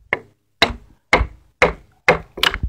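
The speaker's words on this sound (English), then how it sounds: "I don't reef on the chisel real hard when I'm knocking these out" A chisel being knocked out of a timber joist pocket while cutting a tie beam for a timber frame: six light, hollow wooden knocks spaced about half a second apart, close and clear with nothing else around them.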